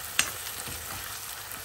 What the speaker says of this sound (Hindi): इसको कंटिन्यू स्टर करते रहें, क्योंकि इससे क्या होगा कि प्याज जलेगी नहीं हमारी और अच्छे से भून जाएगी